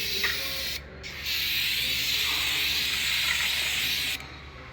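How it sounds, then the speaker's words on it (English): Brake cleaner sprays onto the front brakes of a 2008 Ford Ranger in a short hissing burst, then a longer steady hiss lasting about three seconds before cutting off abruptly, close and clear. "Just get it all off as much as you can using your brake clean."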